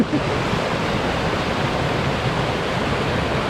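Fall Creek rushing downhill in South Cumberland State Park, Tennessee, a steady, loud broadband roar of water that fills the whole stretch with no voices over it.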